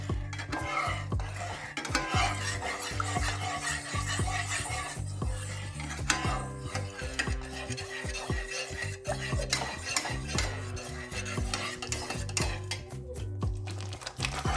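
A spoon stirs pumpkin and jaggery in a pan, scraping and clinking against the metal in a steady rhythm, close and clear, with faint sizzling underneath and no talking.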